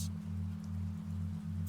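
Steady rain falls as a soft, even patter, laid over a constant low hum with no voices.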